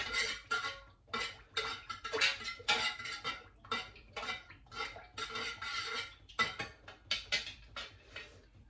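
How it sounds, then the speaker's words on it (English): Melted candle wax and fragrance being stirred in a pot, with a steady run of close metallic clinks and scrapes as the utensil knocks the sides, heard alone without talking. "I'm going to stir it round for a good while because I need to know, you know, all the wax, between the wax and the fragrance is all mixed"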